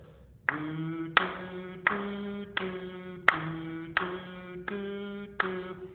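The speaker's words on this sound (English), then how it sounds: "Quarter notes would sound like this." Eight evenly spaced sharp hits in a steady beat, each ringing briefly with a pitched tone before the next, heard alone and close up.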